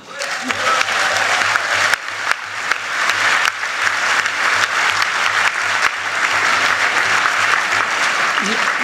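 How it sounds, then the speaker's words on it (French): A conference audience at the closing of the 2015 Rencontres économiques breaks into loud, sustained applause that fills the room steadily, with a voice faintly underneath. "la façon la plus simple de les remercier, c'est évidemment de les applaudir"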